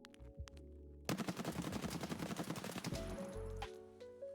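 Sustained automatic fire from a 7.62 MDR lightweight rifle in a shooter game, a dense, steady stream of close shots lasting about two seconds, framed by quieter footsteps and handling noise.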